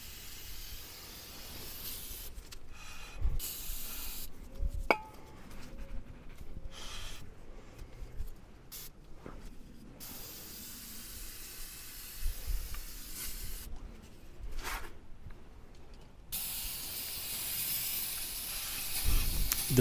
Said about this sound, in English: I just want to spray it down with some brake cleaner.